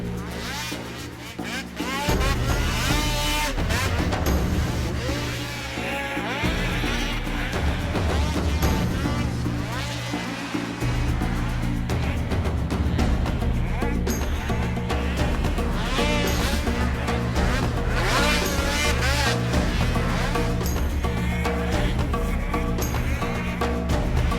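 Snowmobiles racing at an AMSOIL Championship Snocross event in Canterbury, Shakopee, Minnesota, with engines loud and continuous throughout as machines roar past and rev up and down, under heavy crowd and arena noise.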